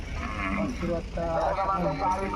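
A young calf brought to a crowded village gathering ground at Vadgaon bleats in drawn-out, wavering calls close by, mixed with nearby people talking.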